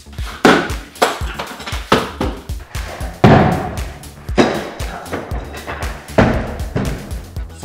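A thrown object strikes a shelf in a room, followed by a run of loud, irregular thumps and knocks spaced about a second apart, close and punchy with brief rattling tails.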